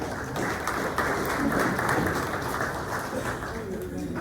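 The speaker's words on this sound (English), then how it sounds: "Let's give them a round of applause." Sustained applause from a crowd, steady and fairly loud for several seconds, with a murmur of voices underneath.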